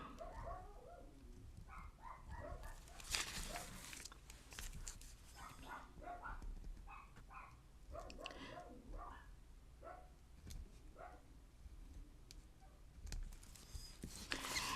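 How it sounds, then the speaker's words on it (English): Several dogs bark in repeated, irregular bursts throughout, some sharp and close, others softer, with occasional whimpers over a steady low background hum. "I have no idea what they're barking at."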